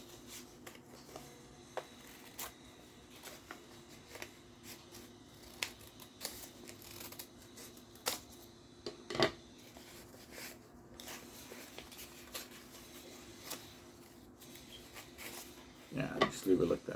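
Scissors snip through paper to cut a tree shape for an art project, with sparse quiet clicks and short cuts at an irregular pace and a louder flurry near the end.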